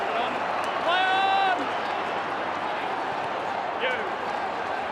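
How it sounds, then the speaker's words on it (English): Football stadium crowd at an AFL match between Carlton and St Kilda, a broad steady roar of cheering and applause that swells briefly, heard under a commentator's continuous talk. "Listen to this crowd."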